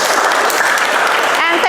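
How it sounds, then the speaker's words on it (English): A classroom of students claps briefly at the end of a lesson, a short loud burst of applause with a voice rising over it near the end. "And give applause to all of you"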